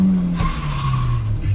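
A race car launching at full throttle from a standing start, its engine roaring loud and steady while the tires skid and squeal for about a second and a half.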